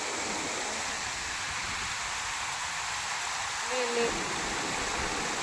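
Torrential rain pounds a road in Pune as water flows across it, producing a constant broad roaring hiss, close and unbroken, with a brief faint tonal sound near the end.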